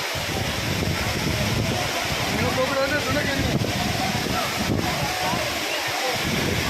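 Water pours down Courtallam waterfall in a constant, dense roaring rush that fills the whole stretch, steady and fairly close, with no clear voices.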